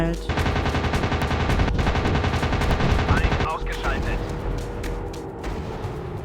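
Rapid machine gun bursts in the WW2 air combat game Warplanes: WW2 Dogfight, loud and continuous for several seconds with engine drone beneath, then easing into a lighter rattle.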